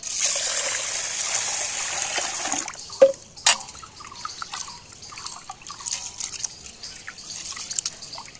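Rinse water from washed, soaked rice pours off in a steady splashing stream for a few seconds, then gives way to a few sharp knocks and faint scattered drips.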